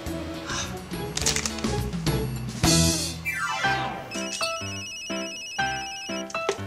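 An electronic phone ringtone plays a bright melodic tune with sweeping and repeating tones, loud and close, with a few clattering noises mixed in.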